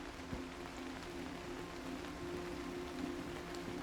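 Rain patters steadily on the canvas of a tent, a soft continuous drumming of drops heard from inside, faint and even throughout with no voices.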